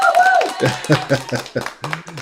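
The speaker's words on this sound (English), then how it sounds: "let's give you a little round of applause" A small group claps a few scattered, uneven beats close by, with voices mixed in around them.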